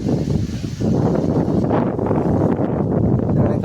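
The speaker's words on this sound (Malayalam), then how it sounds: "നല്ല കാറ്റുണ്ട്." Strong wind at Anayirankal Dam buffets the microphone in dense, continuous gusts, a loud rumbling roar with rustling texture and no clear pauses.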